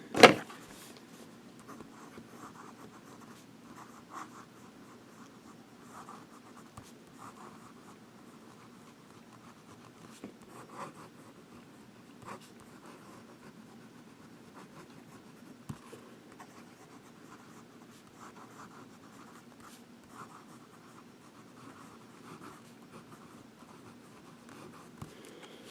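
Pilot Custom 743 fountain pen with a smooth, wet nib scratching across paper in short strokes, faint and close, with soft pauses between words and an occasional louder tap.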